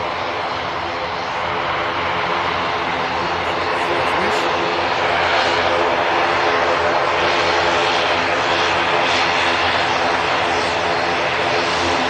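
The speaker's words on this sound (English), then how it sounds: "Another aircraft, just a few miles out now, and EasyJet coming in as well." An EasyJet airliner approaching to land at Manchester Airport produces a steady, loud engine roar that fills the whole stretch with broadband jet noise.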